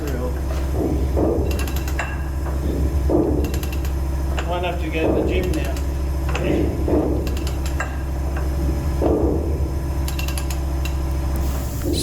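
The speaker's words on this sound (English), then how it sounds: "big long ratchet is rotating that worm drive, slowly rotating the propeller shaft" A long ratchet clicks as it slowly turns a worm drive on a seized ship's propeller shaft and gearbox, making repeated mechanical clacks and creaks in a steady rhythm, close by, with people chatting intermittently over it.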